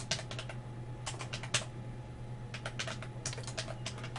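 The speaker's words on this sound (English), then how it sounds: "I'm going to type in" Quick bursts of keystrokes clatter on a computer keyboard, short clusters of taps separated by brief pauses over a faint steady hum, close and fairly quiet.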